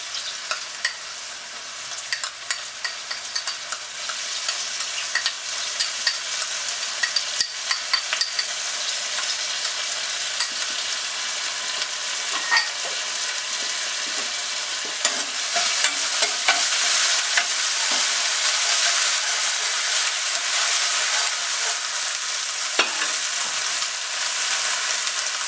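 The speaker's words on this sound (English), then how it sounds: "The ginger and garlic are continuing to sizzle away in the pan." A dense, steady sizzle of chopped ginger and garlic frying in oil with onions fills the pan without pause, with a few faint clicks of stirring scattered throughout.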